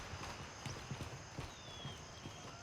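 Rounds clicking one after another into a rifle magazine in Gray Zone Warfare, a steady series of close, light mechanical clicks over low background hum, with no talking.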